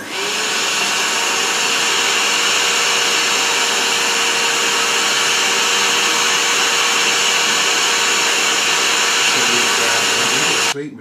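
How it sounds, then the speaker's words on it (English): A vacuum cleaner runs loud and steady with a constant high whine while cleaning upholstered settees, then cuts off abruptly near the end. "my wife is now going to"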